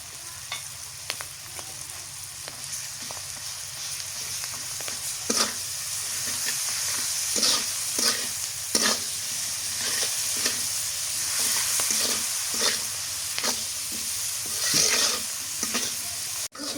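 Garlic paste fries in a pan for a bean-seed curry, a steady hiss of sizzling oil punctuated by repeated sharp spatula scrapes and taps on the pan, close and clear over a long stretch without talking.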